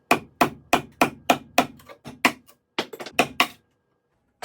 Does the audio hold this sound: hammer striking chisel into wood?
yes